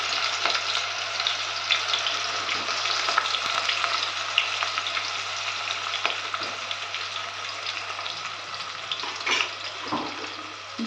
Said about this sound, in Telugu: ఇది వేగనిద్దాం, కొంచెం ఫ్రై అవ్వాలి.